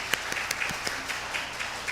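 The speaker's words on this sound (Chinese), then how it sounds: "我们再次拍手欢迎乌来中智教会，" A church congregation at a Sunday service claps in welcome for visitors, a short burst of moderate applause with scattered individual claps standing out.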